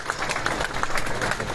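A crowd applauds a chief guest, the Lieutenant Governor, at the opening of a trade show in Srinagar. The clapping is dense and steady, filling a short stretch without a pause.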